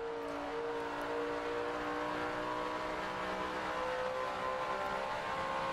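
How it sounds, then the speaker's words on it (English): NASCAR race car at the 2008 3M Performance 400 at Michigan, its engine droning loud and steady with sustained high-pitched harmonics, the crowded roar of a race holding throughout without letup. "Backs out of the gas, gives himself just a little bit of room here, picks the throttle back up"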